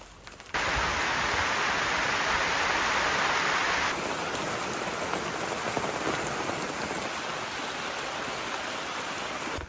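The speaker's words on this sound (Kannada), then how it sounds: "ಬಂತು ಮಳೆ" Steady heavy rain pours onto a surface, a dense continuous hiss that eases slightly partway through.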